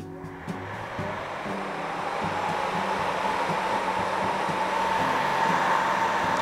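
A heat gun's steady, loud whooshing blast of hot air with a constant motor hum underneath, starting up and continuing without pause.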